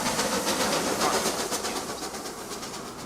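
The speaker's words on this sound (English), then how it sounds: "This locomotive is indeed a much bigger improvement compared to the original train" A locomotive-hauled train in the Transport Fever 2 video game runs steadily past, a continuous rumbling roll with repeated clickety-clack of wheels over rail joints, fairly loud and alone without talk.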